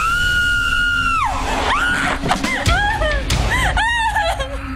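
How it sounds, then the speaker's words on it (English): A woman screams hard during a choreographed dance routine on a TV set. One long, loud, sustained scream breaks off into choppy yelps and gasping cries, with smacks and laughter-like bursts around them. "One big scream."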